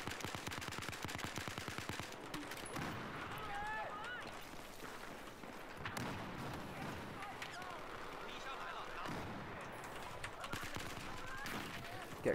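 Rapid gunfire from a long-range gun in Battlefield Domination on the Dawnbreaker map, dense bursts of shots early on, then continuing action with scattered shots and effects, mixed under steady talk from a player.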